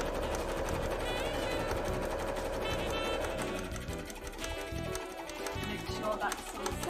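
A domestic sewing machine runs steadily while zigzag stitching across a fabric edge for embroidery on a cosplay costume, a continuous close mechanical whir that slows and stutters briefly near the end.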